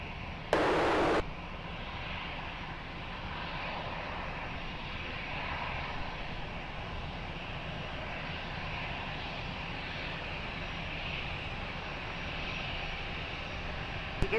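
A steady, roaring airplane engine rumble at Lisbon Airport, broad and continuous for the whole stretch with no voices, its level holding fairly constant as if from a moderate distance.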